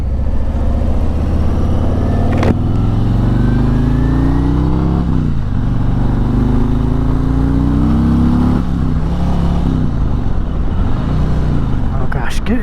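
Harley-Davidson Road Glide motorcycle engine on a first ride, a loud close V-twin rumble rising through the gears with repeated revving climbs and shift dips, steady and dominant throughout.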